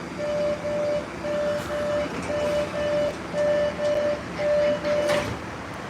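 Subway train running toward Forest Hill, with a steady rumble of wheels on track and a repeating two-tone electronic chime pulsing through the whole stretch, fairly close and alone without talk.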